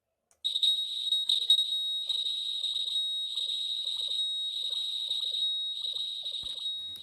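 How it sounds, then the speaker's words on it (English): Piezo buzzer on a manhole accident-warning device, a shrill, high electronic tone sounding in repeated bursts and continuous stretches right up close, with faint clicks underneath. "the buzzer rings continuously to warn the people."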